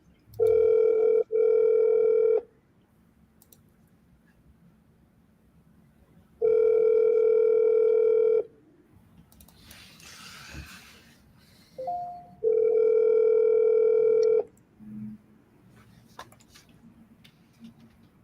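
A phone line rings out while calling a sales lead in San Carlos, California: three long, loud tone bursts spaced a few seconds apart, with quiet line noise and faint clicks in the gaps.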